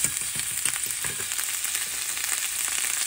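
A little garlic sizzles in butter in a hot pan, a steady close crackle and hiss with faint stirring scrapes and no talking.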